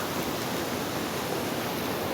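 A river waterfall gives off an unbroken, even roar of rushing water, loud and steady throughout.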